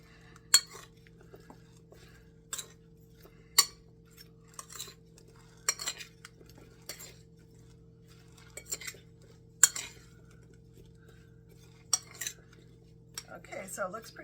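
A metal spoon stirs and scrapes food in a dish while a foil packet dinner is prepared, giving irregular clinks and taps against the bowl at close range over a steady low hum.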